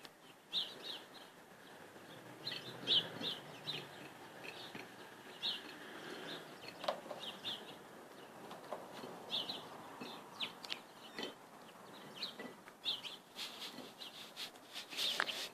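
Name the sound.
chicken eating her lunch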